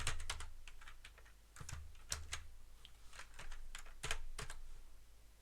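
Quiet clicking of keystrokes on a computer keyboard as a git status command is typed, in an irregular rhythm of short taps with small pauses.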